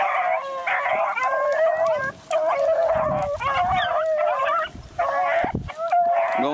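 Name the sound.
hunting dog baying while chasing rabbit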